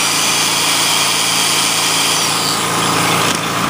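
A loud, steady engine drone of a running Generac portable generator with a high-pitched whine of a power drill plugged into it layered over it, continuous throughout.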